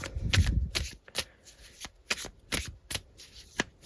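A deck of tarot cards is shuffled in crisp, repeated riffling bursts, close and fairly loud, with short pauses between them and no talking over it.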